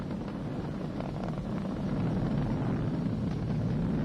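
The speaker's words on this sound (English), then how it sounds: "We're throttling down to get ready for the period of maximum dynamic pressure." The Falcon 9 rocket's engines roar steadily at throttled-down power during ascent, a dense, even rumble heard from a distance that swells slightly midway through.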